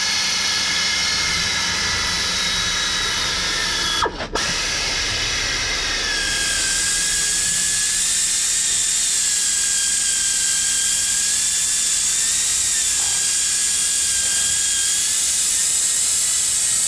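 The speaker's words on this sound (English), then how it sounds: "then I'll go back with the polishing pad" A machine polishing pad spins against a Porsche 911 headlight lens, giving a loud, steady high-pitched whine with one brief dip early on, then running on unbroken.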